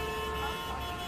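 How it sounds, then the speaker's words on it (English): Car horns honk on a busy street, a steady, sustained blare over dense traffic noise, loud and continuous through the whole moment. "The cars would not stop honking when I was making my aesthetic crossing the street video."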